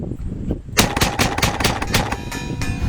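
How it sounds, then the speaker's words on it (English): A high-pressure air gun fires a rapid, steady stream of sharp shots, loud and close, after a brief moment of quieter hiss at the start. "So we just shoot."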